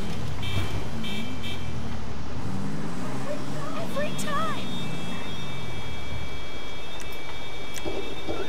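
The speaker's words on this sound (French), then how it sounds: "On klaxonne pas dans la rue, mon pote." A car horn sounds in GTA V Online, a sustained electronic-sounding honk over engine and street noise, with someone talking throughout.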